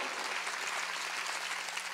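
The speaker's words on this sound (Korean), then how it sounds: "박수치라고" A congregation at a Korean church service claps together in a dense, even burst of applause, loud and close with no speech.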